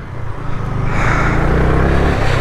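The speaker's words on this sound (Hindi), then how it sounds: "गाड़ी का साउंड ऐसा आता है" Engine of a Pro Rider 1000 vehicle drones loudly and close, a low rumbling note that rises slightly as it revs and then holds steady.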